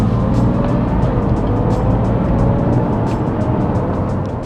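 A BMW sporting brake drives past fast, a loud, steady engine roar close by that holds for several seconds and eases slightly at the end, with no talking.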